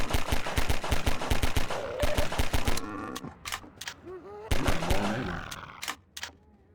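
Rapid automatic gunfire in the video game Half-Life 2, with dense strings of sharp close shots, a brief pause, then more bursts and scattered single shots trailing off.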